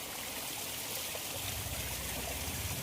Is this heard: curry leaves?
no